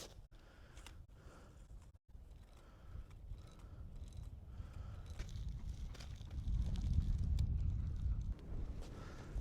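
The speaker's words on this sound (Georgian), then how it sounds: "საშინელი ქარია." Strong wind roars across open ice, buffeting the microphone in gusts that grow steadily louder and heavier toward the end, with faint mechanical clicks and rattles beneath.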